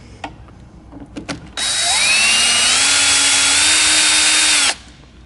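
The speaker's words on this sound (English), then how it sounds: "we're going to take the wax screw out so that way we can disconnect the head assembly from the roll tube" A power drill whines loudly for about three seconds as it backs the lag screw out of an electric RV awning's roll tube to free the head assembly, with a few handling clicks before it spins up.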